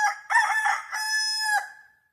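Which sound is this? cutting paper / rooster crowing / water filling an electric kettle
rooster crowing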